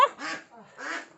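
Ducks on a Thai mixed-farming duck farm give two harsh quacking bursts, close and fairly loud, as they are chased down and caught.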